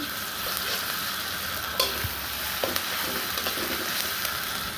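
Ginger garlic paste sizzling in a pan while khichuri is cooked, a loud, steady frying hiss with occasional soft spoon scrapes and taps, close up and without talk.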